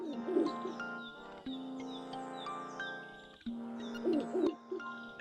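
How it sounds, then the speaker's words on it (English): Owl theme music from the Link's Awakening video game, a melodic chiptune tune with sustained tones, shifting notes and soft hooting-like flourishes, playing alone and moderately quiet. "The owl has its own individual theme"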